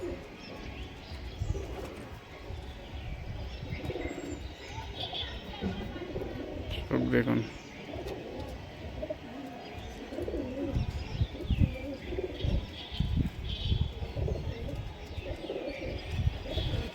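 Breeding pigeons at a home loft, including an old Dhanyabala pigeon, coo in low repeated murmurs under steady close talk, with a few faint chirps around them.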